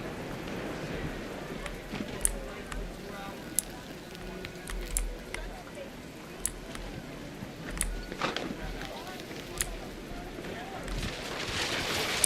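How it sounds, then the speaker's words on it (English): Heavy rain in What Remains of Edith Finch, falling hard around a crudely made tent: a dense, continuous hiss with scattered sharp drops and thuds, with some voice mixed in. "The rain came down in buckets then"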